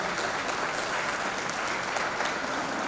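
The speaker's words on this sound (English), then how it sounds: "A big round of applause for Jayant Sinha." Dense, even applause fills a conference hall as an audience welcomes a Minister of State for Civil Aviation, steady continuous clapping at full strength with no voices over it.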